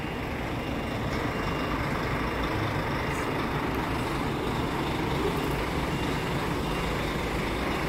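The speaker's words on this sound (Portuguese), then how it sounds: "Muito carreta, muito caminhão." Trucks and semi-trailers rumble past in heavy, continuous roadway noise, a steady loud drone with no pauses and no speech.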